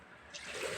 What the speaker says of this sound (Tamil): இப்போ பருப்பு அவியறதுக்கு தேவையான அளவு தண்ணி இதுக்குள்ள சேர்ப்போம்.